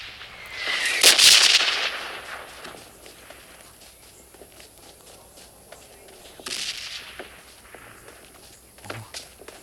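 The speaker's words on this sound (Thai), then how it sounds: "ระเบิดไฟ" Fire bomb exploding in a video game, a sharp burst with a hissing, crackling roar, then a second smaller blast and scattered pops and footsteps across the clip.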